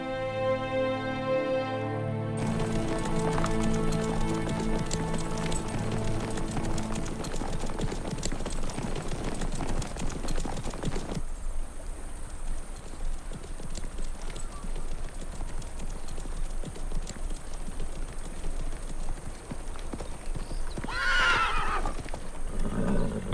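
Horses clip-clop in a steady gallop with loud whinnies and neighs, the hoofbeats dense and continuous, joined by a rising rumble of movement throughout and a sharp high neigh near the end, set in a historical drama.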